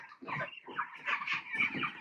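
A flock of nearly 300 chickens on a farm clucks and murmurs in overlapping bursts, moderately close and fairly quiet.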